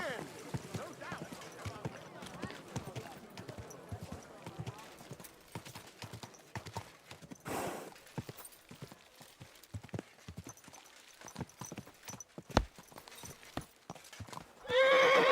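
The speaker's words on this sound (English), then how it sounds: "Easy, good horse." A horse in a video game clatters along with a steady, brisk clip-clop of hooves and gives a short whinny, with a sharp hoof strike and a louder burst near the end.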